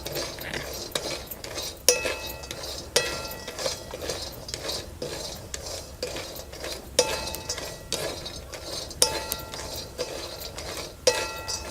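Mixed-dal vadis sautéed in a pan, a spoon scraping and clinking against the metal in steady, repeated strokes with sharper knocks every second or so, close and clear with no talking.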